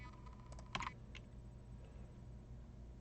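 Faint typing on a computer keyboard as foreign-language text is entered, a short quick burst of clicks up close followed by a couple of isolated keystrokes and quiet room tone.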